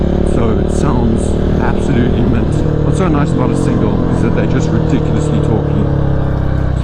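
A 500cc single-cylinder supermoto fitted with a full Akrapovic exhaust runs loudly and steadily on an abandoned road, its engine note rising and shifting, with someone talking over it throughout.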